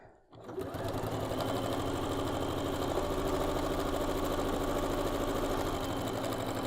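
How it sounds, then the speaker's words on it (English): A sewing machine stitches a quarter-inch seam on a pinwheel star quilt block, starting after a brief quiet moment and then running as a steady, close, rapid mechanical whir for the rest of the stretch. "I'm actually going to flip it over and sew down"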